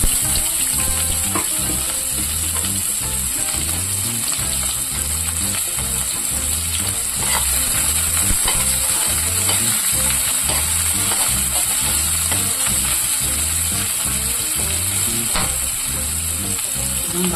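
Onion, green chilli and crushed garlic fry in hot oil, giving a loud, continuous sizzle with occasional stirring scrapes throughout, close up and with no voices.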